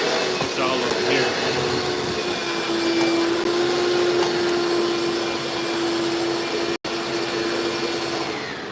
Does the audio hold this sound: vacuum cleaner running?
yes